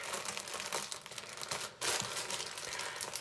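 Plastic package wrapping being opened by hand, loud close crinkling and crumpling in dense continuous bursts with a brief pause midway, no voices.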